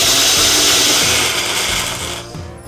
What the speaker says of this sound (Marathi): झाकण लावायचं आणि याची छान अशी बारीक पूड करू